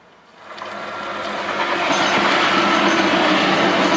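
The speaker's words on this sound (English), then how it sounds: "There goes the train." A train approaches and passes, its rumbling clatter swelling quickly from quiet to a loud, sustained roar of wheels on rails.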